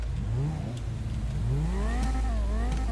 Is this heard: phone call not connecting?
no